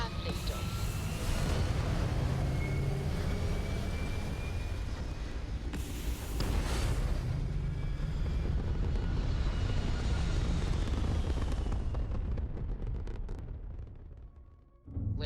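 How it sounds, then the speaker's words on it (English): A video game spacecraft lifts off with a loud, sustained rocket roar and deep rumble that builds, then fades near the end, while voices speak over the engine noise. "We have liftoff"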